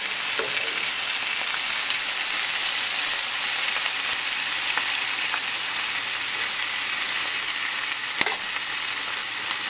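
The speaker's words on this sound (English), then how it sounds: "while our nopales and our onions are cooking" Steady, even sizzling of nopales and onions frying on a hot griddle, close and continuous, with a few faint clicks and no voices.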